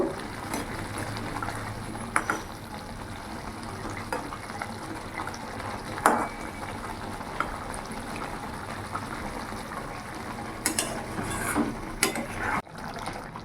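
Egg poach curry boils in a pan with a steady low bubbling simmer and scattered small pops and clicks, close and continuous, with no talking.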